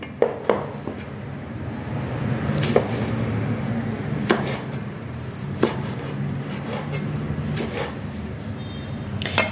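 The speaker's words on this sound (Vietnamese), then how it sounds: "Hẹ xào thì các bạn sẽ cắt khúc cho mình." Knife chopping garlic chives into pieces on a cutting board, a handful of sharp irregular thuds over a soft rustling kitchen background.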